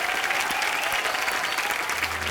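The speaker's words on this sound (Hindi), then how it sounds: "एक बार जोरदार तालियां हो जाए नूरा सिस्टर्स के लिए।" Dense, steady applause from a studio audience on The Kapil Sharma Show fills the space for the Nooran Sisters, a continuous loud wash of clapping with crowd noise.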